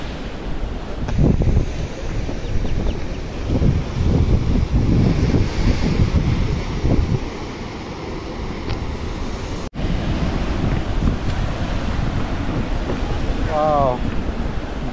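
Ocean waves wash over a rocky beach in Galle, Sri Lanka, as a steady loud roar of surf with heavy wind buffeting the microphone and faint voices in the background.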